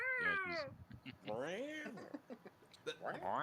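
A cat character's meow comes as several drawn-out, rising and falling cries, mixed in with close conversational talking.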